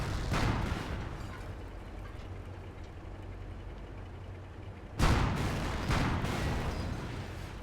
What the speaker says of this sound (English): Both kids firing the AT guns, very smart.